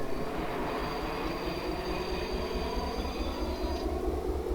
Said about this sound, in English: Oh, braking sounds.